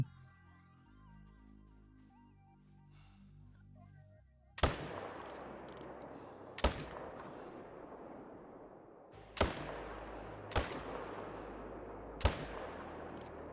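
Hunting rifle shots at a moose in the video game Call of the Wild: five sharp, loud cracks spaced a few seconds apart, each trailing a reverberant echo over quiet outdoor ambience, with soft music at the start.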